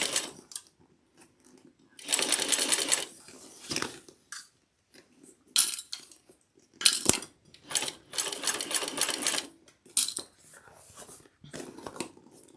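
A heavy-duty sewing machine stitches a fabric bag in stop-and-start bursts of rapid, rattling needle clatter, close and fairly loud, separated by short pauses and small handling clicks.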